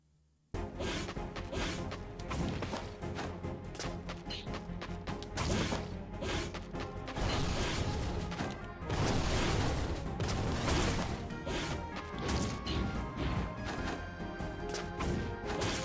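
A boss smashes the ground in the video game Souldiers, and loud crashing, whacking impacts keep coming over a dense, busy game soundtrack for about fifteen seconds without a break.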